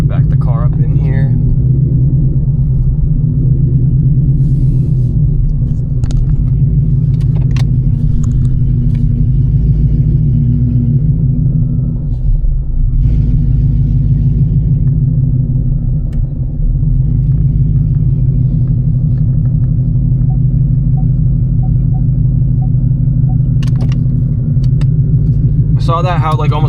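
A manual Ford Mustang GT S650 idles steadily nearby inside a garage, a continuous low rumble throughout, with people talking over it.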